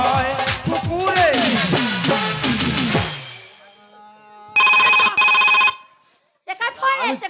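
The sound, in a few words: phone ringing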